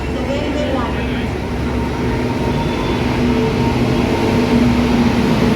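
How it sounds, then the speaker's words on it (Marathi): Madgaon Jan Shatabdi express (12051) arriving at platform 8 of a busy Mumbai station, a loud, steady rumble with a humming drone and general platform din. "तर आपली ट्रेन आली जनशताब्दी C72 मडगाव जनशताब्दी SJ12051"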